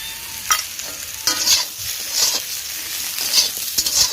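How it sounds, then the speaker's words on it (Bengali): Cut Chandramukhi potatoes fry in oil with salt and turmeric in a pan, with a loud, close sizzle and repeated rhythmic scraping stirs, with no voices. "এবার এই তেলের মধ্যে ভালো করে ভেজে নেব লবণ হলুদ"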